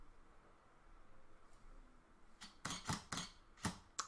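Two or three sharp camera shutter clicks from a camera used for stop-motion LEGO animation, arriving in a quick cluster near the end after quiet room tone, fairly close and crisp.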